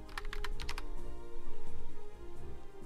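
Fingers type a quick burst of crisp, clicky keystrokes on a computer keyboard while searching, a rapid cluster of taps at the start followed by quieter scattered presses.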